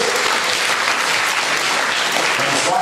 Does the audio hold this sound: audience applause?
yes